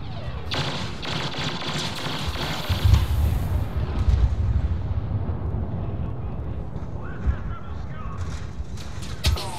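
Blaster gunfire in the Star Wars Battlefront video game, with dense rapid bursts and impacts layered over a busy battlefield din at steady loudness, and voices talking intermittently underneath.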